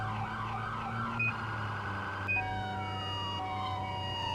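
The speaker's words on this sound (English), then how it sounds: "Just filter through our sirens a little bit." Police car siren in the video game Responding, a steady electronic wail with sweeping tones and brief yelp switches, loud and continuous over a low engine drone, with no talking.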